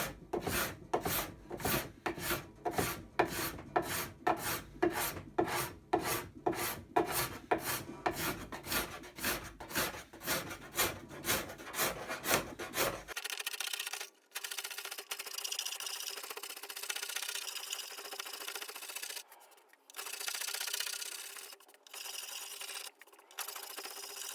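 A card scraper is drawn across a wooden farmhouse table in steady, rhythmic strokes, roughly two per second, a close raspy scrape that runs for about half the time before giving way to quieter, softer rubbing and handling noise.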